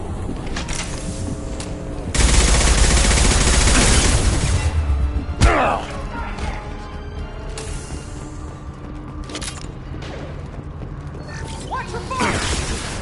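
Sustained gunfire in the video game Mass Effect Legendary Edition, a loud dense burst of shots lasting a few seconds, followed by thinner scattered shots and mechanical clatter under ongoing game ambience.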